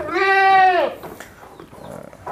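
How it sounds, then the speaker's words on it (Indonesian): A Peranakan Etawa goat in a pen gives one loud, close, quavering bleat lasting nearly a second, followed by quieter background rustling and faint noise. "salah satu contoh mungkin keistimewaan atau kelebihan dari kambing-kambing PE"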